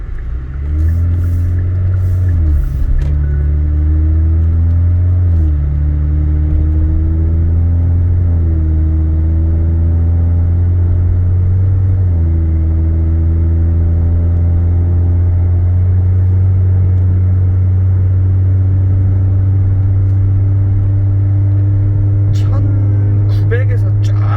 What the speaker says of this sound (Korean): 컴포트한 주행을 한번 좀 해보도록 할게요. 살짝만 악셀을 줘서